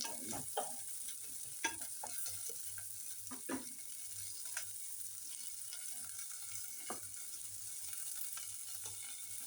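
Chillies sautéed in a pan, heard as quiet intermittent stirring scrapes and light clicks over a soft, continuous sizzle, close and low in level.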